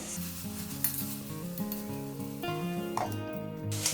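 Tomatoes frying in hot oil with salt and spices, a steady close sizzle with occasional stirring scrapes, set against a sustained melodic music bed throughout and no talking.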